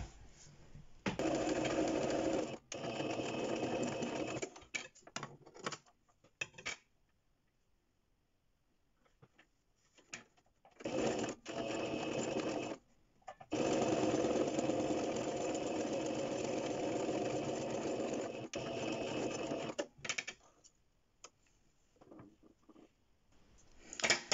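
A sewing machine stitches the ends of a duck-bill fabric face mask near the elastic, in several separate bursts with short pauses between them, running steadily and up close.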